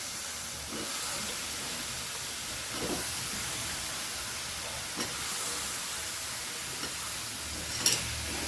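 Potato and eggplant pieces sizzle steadily in a hot pan for an Indian vegetable dish, a continuous moderate hiss with faint stirring clicks and a brief sharper crackle near the end.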